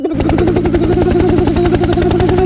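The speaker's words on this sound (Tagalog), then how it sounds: "Helicopter ba yun?" A loud, close helicopter rotor chops in a fast, steady rhythmic thump with a droning engine whine underneath, continuous throughout with no voices.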